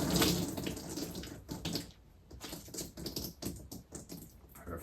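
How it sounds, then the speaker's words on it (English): Running water from a tap splashes steadily while hands are washed with African black soap, with soft rubbing and dripping patches, close and moderately quiet. "you want to make sure you're washing your hands first"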